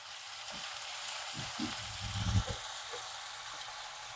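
Onions frying in a pan with a pinch of salt for mutton curry: a continuous close sizzle with a few stirring scrapes and a louder burst in the middle, no talking.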